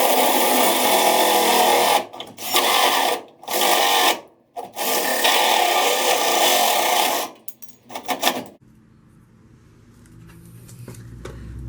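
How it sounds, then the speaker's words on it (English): A handheld power drill bores a hole through a car bumper, running in several loud bursts with brief stops between them. Whirring and grinding continue for about eight seconds, then fall away to quiet with faint handling noise. "if you just load it into a drill and kind of eyeball what you're doing"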